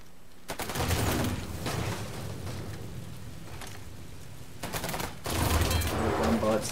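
Uzi gunfire in Mafia 3: a dense, sustained rattle of automatic shots that eases off in the middle and then returns loud and heavy, with voices faintly underneath.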